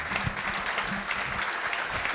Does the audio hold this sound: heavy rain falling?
no